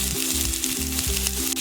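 Chopped onion frying in oil in a kadhai, a loud close sizzle with repeated rhythmic scrapes of a spatula stirring the pieces.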